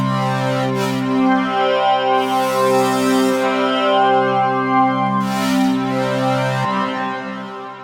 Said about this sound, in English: I'll deactivate the envelope routing and use the morph dial to morph manually